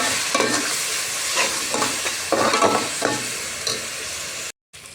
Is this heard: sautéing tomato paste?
yes